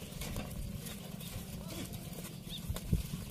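Water buffalo moving into their pen in the afternoon, with dull hoof thuds, shuffling and animal movement close by in a steady, busy rumble and a few sharper knocks near the end.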